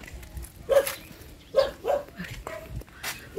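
A dog barks several times nearby in short separate yaps, mixed with people talking in a mountain setting.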